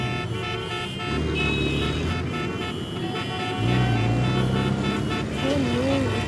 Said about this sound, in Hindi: Oh no, इतनी ट्रैफिक।